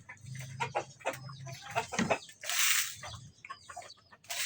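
Chickens cluck softly and intermittently nearby, with a brief burst of rustling or scratching in the middle and no talking.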